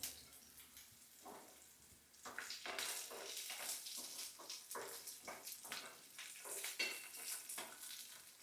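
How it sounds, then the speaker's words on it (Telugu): Eggplant pieces fry in a pan for an Indian brinjal pachadi, with a soft sizzle that picks up after a quiet start and is punctuated by faint stirring scrapes. "మంచిగా వేపుకోవాలి."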